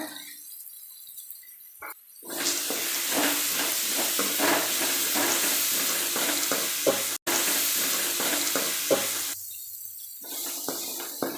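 Tomatoes and peanuts fry and are stirred in a pan for red aval upma, a steady loud sizzle with scraping stirs that starts after a quiet moment, breaks off briefly, then fades near the end.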